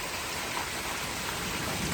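Heavy rain pours down steadily in a Pakistani village, a dense, even hiss with no pauses and no voices.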